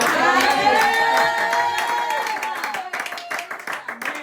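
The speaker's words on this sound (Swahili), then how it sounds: "Tumpigie Bwana Yesu makofi." A church congregation clapping for Jesus, a burst of applause from the crowd that tails off into scattered claps under a sustained musical tone.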